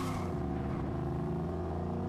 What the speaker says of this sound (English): I think this is the fastest car in the game.